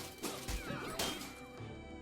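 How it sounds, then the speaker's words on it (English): Shield smash in Blackthorn Arena, a medieval gladiator action-strategy game: a loud, crunching impact with a heavy thud and a short crash, set in a busy, noisy arena mix. "Boom, shield smashed him."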